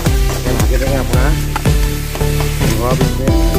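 Chicken pieces fry in olive oil with a steady sizzle, partly buried under loud, rhythmic music with a thumping beat.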